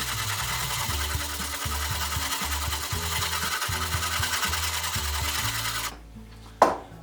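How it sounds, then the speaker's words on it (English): The flat back of a blade is rubbed back and forth on a sharpening stone in steady, evenly paced scraping strokes, about one every second, close and fairly loud, ending with a short knock after the strokes stop. "I'm just going to lay the back flat on the stone and move it back and forth until it all has the same scratch marks"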